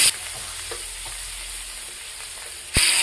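Panch phoron, a cinnamon stick, cardamom, cloves and chopped garlic leaves fry in hot oil for a banana stem curry, giving a steady close sizzle with stirring and a sharp louder burst near the end.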